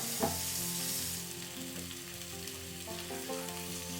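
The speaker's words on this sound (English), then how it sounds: "Sauté the marinated stuff thoroughly in sesame oil over medium-high heat for 2 to 3 minutes like stir-frying potatoes." Marinated ingredients sauté in sesame oil in a pot over medium-high heat, giving a steady, close sizzle with brief stirring scrapes and no talk.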